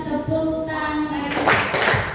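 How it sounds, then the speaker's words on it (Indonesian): Hands clap together in a quick burst of loud claps near the end, right after singing, during a group song activity with students at an orphanage. "bertepuk tangan"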